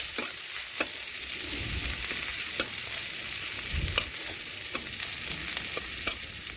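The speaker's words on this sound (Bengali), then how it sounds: "এখন পেঁয়াজ একটু নাড়াচাড়া করে একটু হালকা করে ভেজে নিচ্ছি।" Chopped onion frying in oil in a pan, a constant bright sizzle with sharp periodic scrapes and taps of a spatula stirring, close and without any talking.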